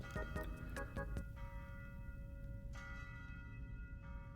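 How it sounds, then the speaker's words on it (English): A bell, likely a church-type bell, strikes several times in quick succession at the start, then one more time near the middle, each note ringing out with a long sustained hum that lingers under a steady background. "And that is the sound of the bell."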